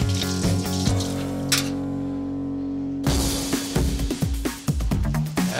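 A kitchen tap runs steadily during a cooking competition, a continuous hiss of flowing water that thickens and turns splashier partway through, with clinks and kitchen bustle around it.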